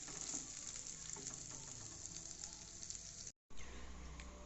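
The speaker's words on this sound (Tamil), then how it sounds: "ஒரு நிமிஷம் இப்படி கிளறி விட்டால் போதும். எண்ணெய் எல்லாம் ஒன்று போல் சேர்ந்து வரும்." Steady oily sizzling and crackling of pirandai (veld grape) chutney being stirred as it fries in oil in a pan, close and continuous, with a brief silent gap near the end before the sizzle resumes.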